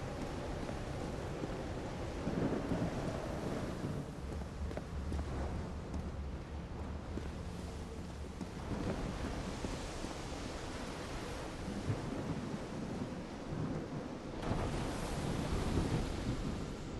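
A thunderstorm in the video game Call of the Sea: a steady broadband roar of rain and wind with low rumbling swells and a heavier surge near the end, with no voices.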